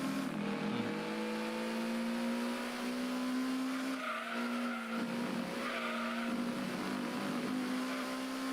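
Tires on a Honda Civic VTi squeal steadily under braking in the video game Gran Turismo 2, a sustained high screech over the engine hum that holds for the whole stretch with a brief dip midway.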